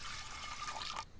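Water pours into a pressure cooker holding washed lentils, a soft, close splashing trickle lasting about a second before it cuts off abruptly.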